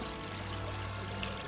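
A fountain in a video game pours a steady, even stream of water, a constant soft rushing splash with no breaks and no voices over it.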